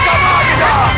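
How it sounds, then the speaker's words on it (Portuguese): A lively crowd shouts, whoops and cheers all at once in a loud, continuous wall of excited voices. "Já começou a gritaria,"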